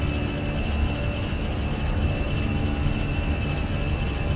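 Airbus A320 jet engines at takeoff power in a flight simulator, a steady, dense roar with constant rumble and a high whine that holds evenly throughout, with no voices.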